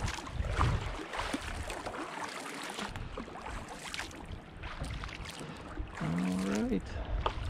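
A sailing kayak moves across choppy Lake Superior, with continuous wind and water rushing and splashing close by, occasional thumps from waves and paddle, and a short burst of voice partway through.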